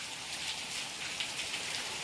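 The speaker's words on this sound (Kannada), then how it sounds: "ಫುಲ್ಲು ಮಳೆ ಹಿಡ್ಕೊಬಿಟ್ಟೈತಿ, ಅದು ಜೋರು ಮಳೆ" Heavy rain pours down steadily in a continuous broadband hiss of drops striking surfaces, dense and even throughout with no voices.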